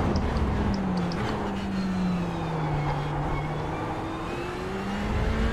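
A GTE race car engine in the iRacing simulator drones steadily and loudly on a hot lap, its pitch sliding gradually as it changes gear, with no talk over it.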